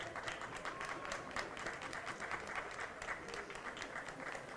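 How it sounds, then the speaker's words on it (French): An outdoor crowd at the Meyrin running race applauds the medal winners, a steady, faint wash of many hands clapping with no pauses. "Un tonnerre d'applaudissements pour Héloïse, Naïla et Alix."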